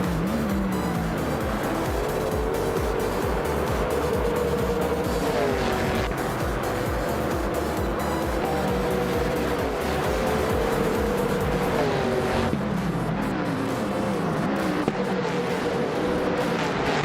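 Race cars in a video game race roar continuously with engine pitch rising and falling through shifts, tires squealing in places, a loud steady wash of motor noise throughout.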